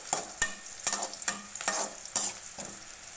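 Dried red chilies sautéing in oil for a potato stir-fry, with about seven distinct scraping stirs at an even rhythm over a soft sizzle, close and clear with no talk.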